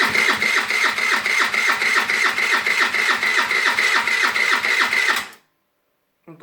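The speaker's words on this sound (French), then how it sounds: "Donc là, comme ça fait un petit moment que je l'ai pas démarré, il a un peu de mal." A quad or motorbike engine that has sat unused for a while and is hard to start cranks with a loud, steady, rapid chugging rhythm that never catches, then cuts off abruptly into silence.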